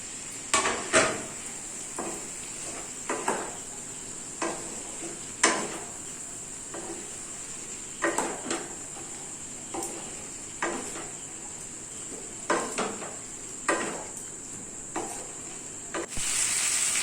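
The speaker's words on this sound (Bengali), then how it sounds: "এরপর আরও একবার ভালো করে মাংসটা কষিয়ে নেব।" Chicken pieces with garlic sauté in a pan for curry, under a constant sizzle and a high hiss. A spoon scrapes and clanks against the pan in irregular knocks spread across the clip.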